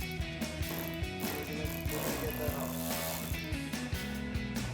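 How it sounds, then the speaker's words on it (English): A 3/8-inch ratchet with an 8mm socket loosens a bolt on the factory airbox of a Dodge Challenger with a HEMI engine, giving steady, rapid, close-up clicking throughout. "So I'm gonna use my 3/8 ratchet set with the 8mm bolt, with the 8mm socket."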